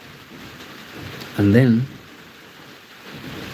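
Steady rain falls outside during a thunderstorm, a constant hiss running through the clip, while someone briefly speaks over it partway through.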